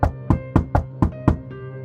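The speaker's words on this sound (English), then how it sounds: "They immediately went to the apartment and knocked on the door." Six firm, evenly spaced knocks on an apartment door, each a sharp resonant rap about a quarter second apart, close and loud with brief decay between, no voices.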